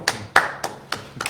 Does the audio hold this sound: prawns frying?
no